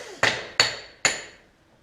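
Three sharp, ringing hammer taps on a metal driveshaft part, spaced about a third of a second apart, each decaying quickly, close and clear with no talk.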